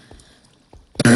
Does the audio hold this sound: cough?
yes